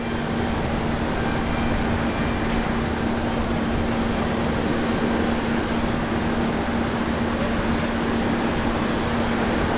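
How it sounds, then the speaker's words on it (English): Jetstar Boeing 787 airliner at Brisbane Airport, heard as a steady, fairly loud broadband engine roar with a constant tonal hum, holding evenly throughout with no talking. "787 now from Jetstar"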